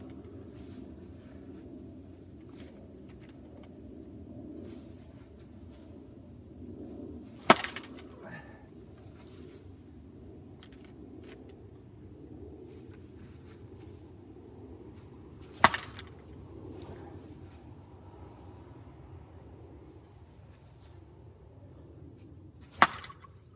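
Bat hitting SKLZ heavy duty wiffle balls, three sharp, isolated cracks spaced several seconds apart against faint outdoor background noise.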